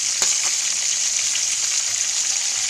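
Tulingan fish frying in a pan, giving a steady, dense crackling sizzle with a brief louder pop near the start and no voices.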